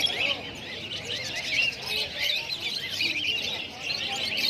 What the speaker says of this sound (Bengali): এগুলো হোয়াইট ফিঞ্চ, ককাটেল। এগুলো হলো লাভ বার্ড।